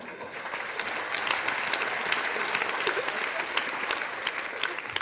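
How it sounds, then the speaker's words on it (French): Dense applause from a comedy show audience fills the whole stretch, steady and fairly loud with no voices over it. "J'aime quand les femmes applaudissent"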